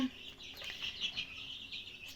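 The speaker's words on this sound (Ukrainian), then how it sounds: "одно курчатко, яке вилізло на світ, яке саме видряпалося" A newly hatched chick from a home incubator gives thin, high peeping chirps in a quick, irregular series. The cheeps are faint and close, with a soft background hum.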